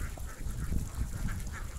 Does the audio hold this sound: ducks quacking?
yes